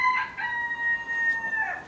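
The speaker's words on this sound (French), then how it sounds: "Et il y a un coq." A rooster crows in the countryside, one drawn-out, fairly close cock-a-doodle-doo with a rising opening and a long sustained tone trailing off, against quiet rural background with no talking.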